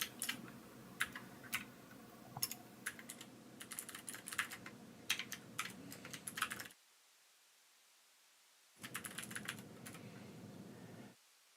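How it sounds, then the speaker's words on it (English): Fast, irregular clicking of keys on a computer keyboard, typed in bursts with a sudden gap of near silence before the typing resumes briefly. "you're not supposed to hear the typing when you have this noise suppression on"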